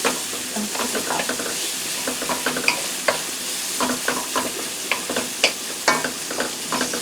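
Carrots stir-fried in a hot pan for fried rice, a constant close sizzle broken by repeated clacks and scrapes of a utensil stirring.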